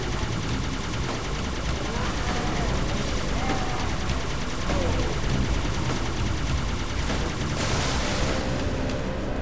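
Dense gunfire and explosions fill a Halo 2 battle in a continuous loud barrage, with engine rumble and weapon bursts layered on top.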